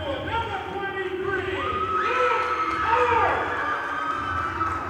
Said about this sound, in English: Loud and small but loud crowd here in the Reggie O'Brien Gymnasium.